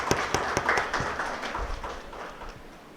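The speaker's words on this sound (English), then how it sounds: "Please give a big round of applause to Dr." Conference audience applauding, a dense wash of claps with a few sharp nearer hits at the start, gradually thinning and fading over three seconds without talk.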